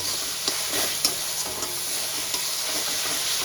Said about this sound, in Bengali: এই আদা রসুনের গন্ধটা যেন চলে যায়, খুব ভালো করে কষিয়ে নেব।